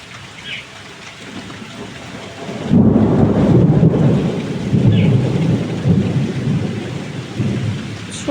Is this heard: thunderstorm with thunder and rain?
yes